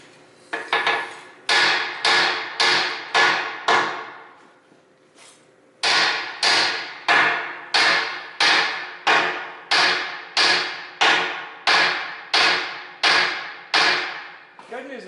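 Hammer blows struck repeatedly against a stuck part, a quick burst of strikes, a short pause, then a long steady series of loud, evenly spaced metallic smacks close by.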